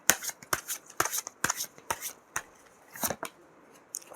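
Tarot cards are shuffled and drawn in a quiet room, giving a fast run of crisp riffling flicks and soft slaps in an irregular rhythm, close by and fairly faint.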